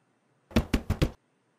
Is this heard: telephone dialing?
no